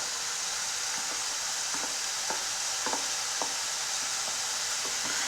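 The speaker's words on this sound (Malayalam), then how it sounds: "ഇതെല്ലാം നമുക്ക് നല്ലപോലെ ഒന്ന് വഴറ്റിയെടുക്കാം." Chopped ginger and finely minced garlic sauté in a pan for a potato and drumstick stir-fry, giving a steady soft sizzle with scattered light stirring scrapes and taps, close and even, with no talking.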